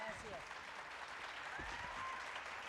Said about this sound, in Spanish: Un aplauso, por favor, para nuestros panelistas